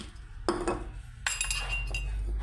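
A metal spoon clinks against a glass while black coffee is stirred, two short bright bursts of rapid tinkling close by, with no talking.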